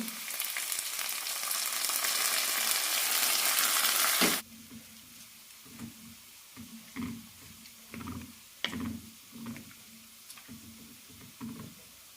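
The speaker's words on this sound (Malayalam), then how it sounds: "കടുകും കറിവേപ്പിലയും ചെറിയ ഉള്ളി ഇട്ടിട്ടാണ് താളിക്കുന്നത്" Mustard seeds, curry leaves and small shallots sizzle in hot oil as a tempering for drumstick curry, starting with a loud steady hiss that cuts off abruptly, then giving way to quieter bursts of crackling and stirring.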